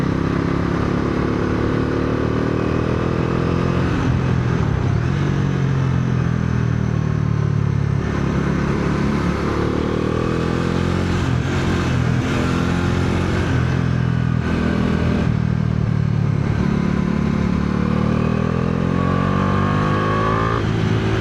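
Motorcycle ridden solo on a road to Dakshinkali, its alignment off so it pulls right when the hands let go; a steady engine drone with wind rumble runs continuously up close, rising and falling slightly with throttle.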